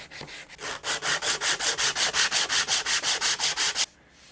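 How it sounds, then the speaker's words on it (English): Rhythmic back-and-forth sanding of a wooden guitar neck with sandpaper on a block, about twenty even strokes, close and scratchy, stopping abruptly at the end. "I start to move to sandpaper and a sanding block."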